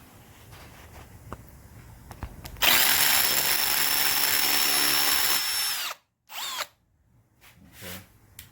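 A powered driver with a Phillips bit unscrews a screw from a Torsen computer: a sustained whirring drill sound for about three seconds, then a short second burst, close and fairly loud.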